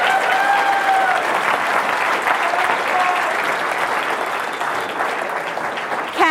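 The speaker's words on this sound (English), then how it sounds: "Big round of applause" Sustained, dense applause from a conference audience at a MySQL event, loud and steady throughout with no break, the clapping crowd sounding close and full.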